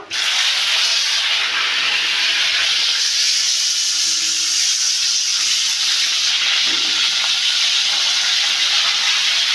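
Sliced ridge gourd pieces hitting a hot pan already tempered with a dried red chilli and cumin, raising a loud, bright continuous hiss of sizzling that holds steady throughout with no voices.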